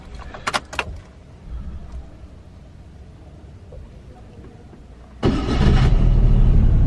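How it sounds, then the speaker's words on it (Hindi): Keys of a Prince Pearl car jingle briefly, then after a quiet pause the engine fires abruptly and settles into a loud, steady running roar up close. "Let's start the car."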